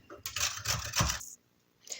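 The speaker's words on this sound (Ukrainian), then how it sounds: "а моркву натремо на велику терку" Carrot grated on the coarse side of a box grater in a home kitchen, a quick burst of rough scraping strokes lasting about a second, close and fairly loud, then quiet before a brief sound at the end.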